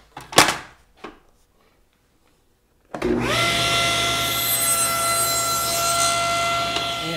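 A power saw cuts a wooden board for a small camper leveler, starting abruptly after a couple of light knocks and then whining steadily and loudly up close.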